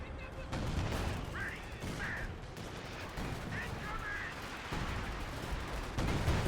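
Artillery and gunfire boom across a 3v3 tank battle on the Fields of Winnek map in Company of Heroes 2, with repeated muffled blasts over a steady rumbling wartime din.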